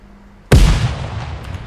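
A grenade detonates in the tactical shooter Ground Branch, one sudden loud blast after a quiet lead-in, followed by a rumbling decay that fades over the next second.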